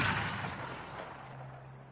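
A single gunshot in a film, a sharp loud crack at the start followed by a decaying echo and low rumble, with no talking.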